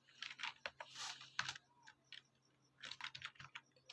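Code typed on a computer keyboard for a MERN e-commerce project, with rapid close-up key clicks in quick bursts separated by brief pauses, quiet and alone with no speech.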